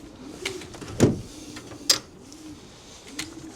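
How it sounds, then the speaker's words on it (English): A pigeon loft door is shut with two sharp knocks about a second apart, close by, while pigeons coo softly in the loft around it. "Let me just close this door."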